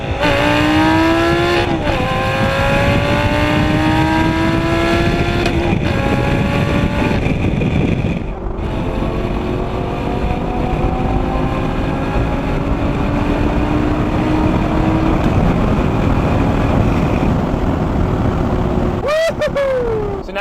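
2012 Lamborghini Gallardo LP 560-4 Spyder cruising on a highway in sixth gear around 2,500 RPM, a loud steady engine drone with shifting tones, wind and road roar, plus brief whooshes of passing traffic.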